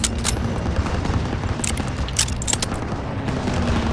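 Dense machine gun fire and booming gunfire crackle continuously through a World War II battle in Call of Duty WWII, with a steady loud roar of shots and occasional sharper bursts.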